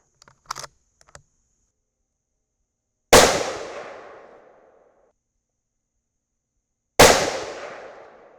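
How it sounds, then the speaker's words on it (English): A .30-caliber M4-72 rifle fitted with a muzzle brake fires two loud, sharp shots about four seconds apart outdoors, each with a long, fading echo tail, after a few faint handling clicks. "we're shooting the M4-72 and we're on the 3rd shot"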